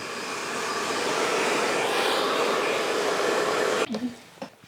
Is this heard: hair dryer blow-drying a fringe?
yes